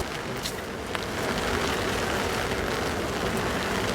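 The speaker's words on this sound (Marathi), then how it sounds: "वरून पावसाच्या सरी पण येत आहेत" Steady rain showers hiss across the open hilltop at the Deogad windmills under dark monsoon clouds, a dense, even patter that swells slightly after the first second and holds without pause.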